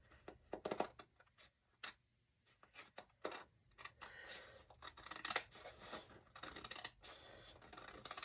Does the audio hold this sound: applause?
no